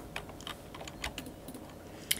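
Computer mouse clicks during Photoshop editing, a scattered run of light, quick clicks close to the mic with no voice, plus one sharper click near the end.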